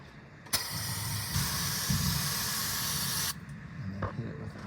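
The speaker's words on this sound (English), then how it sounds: "so I'm going to spray it with some brake clean" Brake cleaner sprayed onto the front axle of a Prevost RV bus conversion in steady hissing bursts, one long continuous spray in the middle with shorter blasts before and after, close up.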